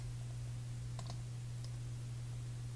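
Computer mouse right-clicking during copy and paste, a few faint, quick clicks over a steady low electrical hum, no talk.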